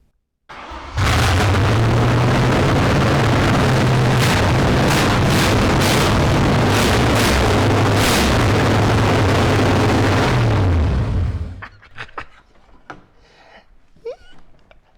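A Factory Five Cobra roadster's engine cranks and fires for the first time, then roars loudly and steadily for about ten seconds before cutting off abruptly, leaving faint shuffling noises behind.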